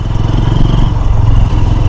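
A GPX Demon motorcycle engine runs steadily with a low, throbbing rumble and faint clatter, loud and close throughout.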